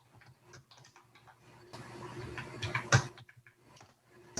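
Someone types on a computer keyboard while entering C code, producing quiet, sparse key clicks with a short denser run in the middle, heard alone.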